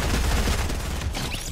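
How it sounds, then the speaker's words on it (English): P90 gunfire in Fortnite, a rapid burst of loud automatic shots rattling in quick succession, close and dense before trailing off. "I'm gonna kill you with the P90."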